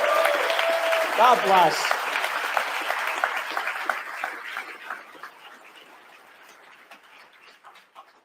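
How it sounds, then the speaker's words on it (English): An audience applauds steadily and loudly, with a brief spoken exclamation early on, then the clapping gradually thins and fades over the following seconds. "So just another round of applause for Sneeko and for everybody that stepped up"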